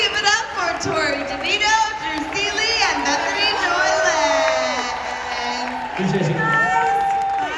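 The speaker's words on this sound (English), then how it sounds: "So please give yourself a huge round of applause." An audience at a convention panel cheers and whoops, with loud shouting voices and some clapping mixed into the crowd noise.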